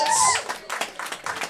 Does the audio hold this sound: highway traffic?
no